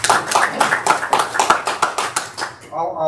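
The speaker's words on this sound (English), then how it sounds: "And a round of applause for Bruce too" Applause from a small group at a monthly club meeting held at an RSL venue: brisk, close hand claps for about two and a half seconds, then a voice begins speaking as the clapping stops.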